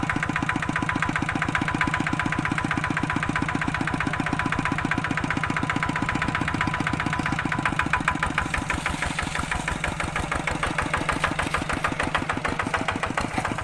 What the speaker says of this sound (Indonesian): Nah, ini sekarang traktor akan dibawa naik.